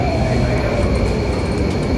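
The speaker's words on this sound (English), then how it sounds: "Here's one of the trains coming," A subway train pulls into a short platform on Singapore's metro, a steady loud rumble of wheels and carriages running the full length, with a faint high squeal riding above it and no talk.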